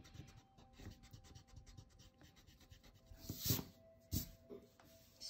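An eraser rubs on paper during a pencil drawing, faint close scratchy strokes in quick repeated bursts, with a couple of louder rubs toward the end.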